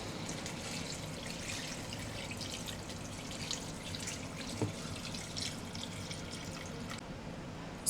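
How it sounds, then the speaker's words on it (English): Water is poured into a pot of seasoned pork with scotch bonnet pepper and herbs, giving a soft, steady splashing trickle at moderate distance, quiet and unbroken, with no talk. "Okay, now I am adding the water."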